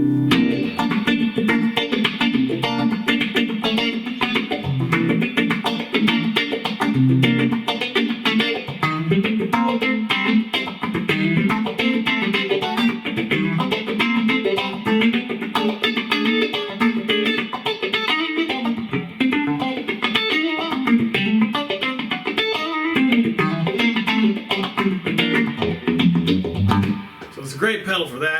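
Electric guitar played through a phase shifter pedal, a continuous sweeping, swirling effected tone with a funky feel, loud and steady throughout with no pauses.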